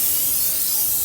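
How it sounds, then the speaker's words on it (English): Cooking spray hisses in one short, steady burst into a roasting pan, close and fairly loud, with no talk. "I'm going to get some cooking spray. My mother finally put it in a reasonable place. And I'm going to just spray it like so."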